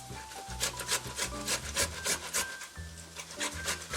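Halved Roma tomatoes are rubbed back and forth over a metal grater in quick, regular rasping strokes, close and clear with no talking.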